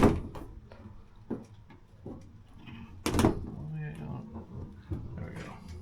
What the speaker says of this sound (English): That makes the door slam open and shut.